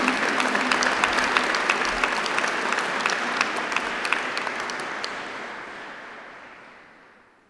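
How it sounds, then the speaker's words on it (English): An audience at an Open University degree ceremony in Ely applauds graduates' family and friends: sustained, dense clapping from a large crowd, steady and fairly loud, tapering off over the last couple of seconds. "let's give them a huge round of applause as well"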